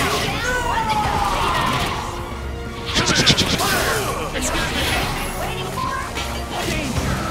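A wrestling-style power bomb slam lands in Marvel vs Capcom 3, a sharp impact crash amid busy fighting-game effects and music, with commentators talking over it.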